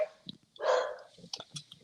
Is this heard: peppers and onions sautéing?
no